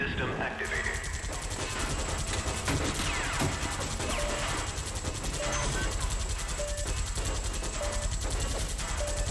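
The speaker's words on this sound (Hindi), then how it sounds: "गोलियां चलाने वाले हैं वो लोग।" Gunfire in the PC video game Time Shift: rapid bursts and sustained automatic shots crackle continuously, mixed with game effects and someone talking over the action.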